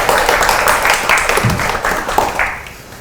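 An audience at an education forum applauds, a loud sustained patter of many hands clapping that fades slightly toward the end.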